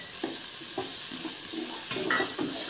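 Tomato sautéing with garlic in a pan for an avarakkai poriyal, a soft steady sizzle broken by a few gentle stirring scrapes and taps, quiet and close with no speech.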